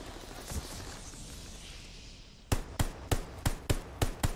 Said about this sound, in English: Just a little tap fire as we walk across.